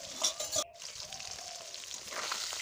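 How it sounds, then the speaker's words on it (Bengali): Snakehead fish frying in oil in a village kitchen: a soft, even sizzle follows a brief clatter as a piece is added, continuing at a moderate level. "দিয়ে দিচ্ছি আরেকটা মাছ দিয়ে ভালো করে আমি ভেজে নেব"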